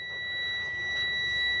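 A broken Dixon lawn mower refitted with a Cub Cadet engine gives off a continuous electronic beep from its wiring, a steady high tone held throughout at moderate level with no talking.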